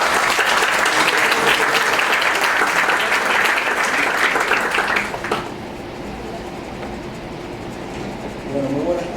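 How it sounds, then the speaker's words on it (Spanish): Strong applause from the audience at a university law event as the program director is introduced, dense and loud for about five seconds before cutting off abruptly to a quieter room with faint murmurs. "Un fuerte aplauso"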